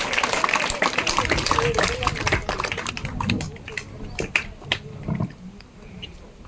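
A school audience claps at a badge distribution event, loud scattered applause at first that thins to a few sparse claps, with voices and crowd murmur mixed in.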